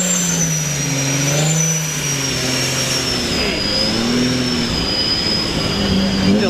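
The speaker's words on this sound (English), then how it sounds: "listen to that turbo. That sounds absolutely insane." At a Dallas car show, a turbocharged car engine revs loudly with a high turbo whine sustained over it, pitch rising and falling across several seconds amid crowd noise.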